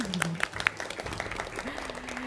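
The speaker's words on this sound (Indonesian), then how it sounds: "tepuk tangan lagi" An audience at a Ramadan event breaks into applause, a dense crackle of clapping running steadily under a loud voice speaking over it.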